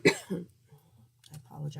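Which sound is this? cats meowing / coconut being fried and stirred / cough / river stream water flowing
cough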